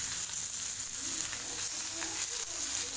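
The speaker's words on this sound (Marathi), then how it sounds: "तवा गरम झाला, त्यावर तेल टाकलं, तेही गरम झालं. यानंतर अशी मिरची" Green chilies frying in hot oil on a griddle, a steady soft hiss and crackle of sizzling, close and continuous with no talk.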